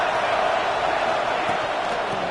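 Stadium crowd noise at a college football game in a video game, a dense, steady roar of massed cheering throughout with no clear break.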